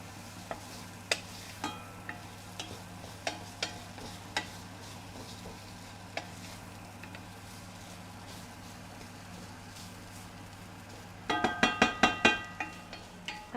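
Ginger, garlic and chillies fry in a pan while being stirred, a soft continuous sizzle punctuated by scattered utensil clicks, ending in a quick burst of louder scraping taps.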